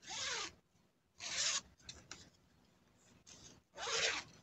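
A zipper on a fabric pet carrier bag is pulled in several quick, rasping strokes, with short quiet gaps between pulls and faint rustling in between.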